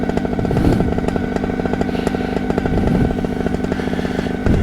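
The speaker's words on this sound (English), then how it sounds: "Get that prop to stop spinning." A spinning propeller drones steadily and loudly at close range outdoors, a dense continuous buzz with rough engine-like pulsing and no talk over it.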